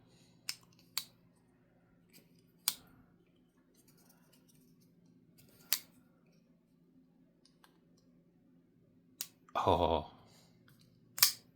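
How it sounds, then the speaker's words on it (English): A Kizer Seagull liner lock knife clicks as its blade engages, giving several crisp, close metallic clicks spaced irregularly with a brief rustle between them, while a person murmurs briefly. "the one thing I can say about liner locks is they do make the best engagement sound"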